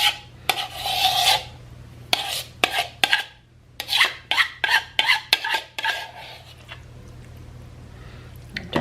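Stuffing mix spooned onto peppers for the air fryer, a series of close scraping and rubbing strokes of a utensil against a bowl, in irregular bursts with brief pauses, no talking.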